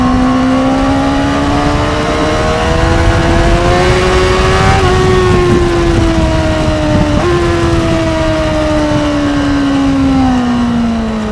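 A Honda CBR600RR sport bike at high speed gives a loud, close engine whine. Its pitch climbs steadily, breaks twice as the gears shift, then slowly falls away under rushing wind.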